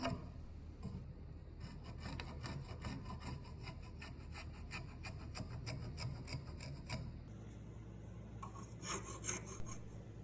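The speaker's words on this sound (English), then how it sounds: "I like using this mini spoke shave for the fine details like rounding over the edge of the spoon." A mini spokeshave rounding over the edge of a carved wooden stave spoon, producing quick repeated rasping shaving strokes in a steady rhythm, close up and quiet, with a brief pause and a brighter scraping burst near the end.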